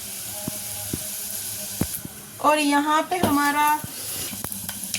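Red chili tadka sizzling in hot oil in a home kitchen, a bright crackling sizzle that swells for a couple of seconds between quieter stirring clinks while someone talks.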